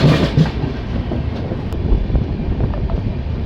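The Digha–Visakhapatnam Express at its Kanthi halt, a low rumbling train with light clatter and wind buffeting the microphone, steady and moderately loud throughout.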